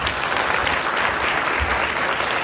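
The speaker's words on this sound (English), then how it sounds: "A round of applause." A crowd at a robotics championship showcase inauguration gives sustained, dense applause, an even wash of many hands clapping at full volume with no speech on top.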